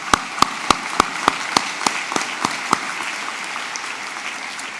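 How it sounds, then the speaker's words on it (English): Audience applause at a Providence College commencement ceremony for the class of 2025, starting with sharp, distinct claps that blend into a steady, fairly loud patter of many hands before slowly thinning out. "Please give yourself a round of applause."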